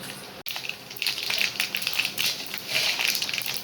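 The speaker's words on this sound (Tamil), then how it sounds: "இப்போ எண்ணெய் காஞ்சிருச்சு கடுகு போட்டுக்கலாம் கடுகு கொஞ்சம் நிறையாவே போட்டுக்கலாம் கொஞ்சம் சீரகம் போட்டுக்கலாம்" Mustard seeds and cumin sizzle and pop in hot oil for a Tamil mango rice tempering, a steady close crackling hiss with scattered sharp spits and a brief click near the start, no voices.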